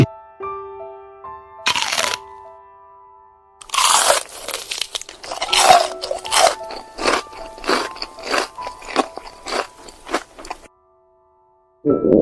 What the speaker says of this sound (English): Now this is the eating sound which was removed.